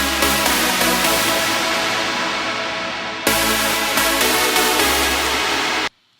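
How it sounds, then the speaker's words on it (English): Dense, sustained synth chords play loud and steady, one chord change midway, then stop abruptly; no voices. "So first the chords sound like this."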